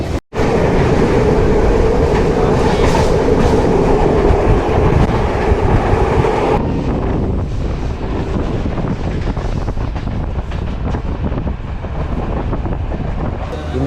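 A fast train in Jaffna rushes along, heard from the footboard of a second-class carriage, with a loud, continuous roar of wheels and heavy wind buffeting close to the microphone.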